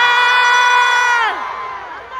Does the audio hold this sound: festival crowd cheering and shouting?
yes